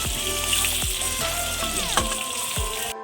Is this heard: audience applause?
no